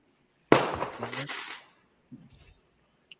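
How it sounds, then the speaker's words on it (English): Neighborhood fireworks going off on the Fourth of July: one sharp, loud bang followed by a crackling tail, then a fainter distant burst and a small pop near the end. "I hear fireworks."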